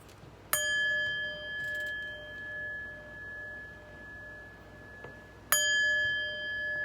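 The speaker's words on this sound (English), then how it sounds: "let's chime." A chime is struck twice about five seconds apart, each a bright clear metallic ring that sustains with long, slowly fading overtones in a quiet room, with no voices.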